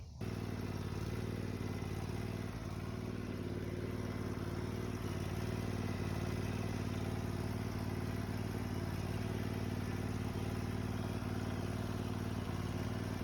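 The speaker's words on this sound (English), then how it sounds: "I'll get this engine started" A Grasshopper riding lawn mower engine idling steadily, a constant low rumbling drone with mechanical clatter, close and unbroken for the whole stretch; no voices.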